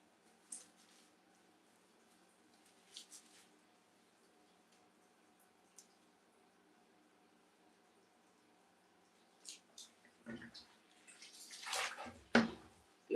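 Water splashing and sloshing as a wig cap is washed from the inside, quiet at first with a few soft isolated splashes, then a louder burst of rinsing near the end.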